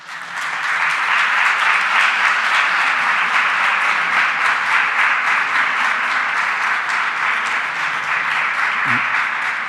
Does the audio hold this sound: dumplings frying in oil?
no